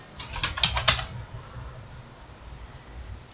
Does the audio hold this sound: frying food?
no